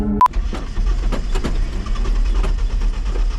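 A Peugeot 206 with a worn-out carburetor cranks with a sharp click and then catches, settling into a rough, close-up running noise right after.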